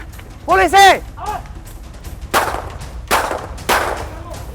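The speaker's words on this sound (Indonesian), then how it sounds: "Safrudin alias Kirno ditembak karena berusaha kabur saat akan ditangkap" Police fire three sharp gunshots at a fleeing suspect during an arrest, spaced about a second apart and following loud shouting voices.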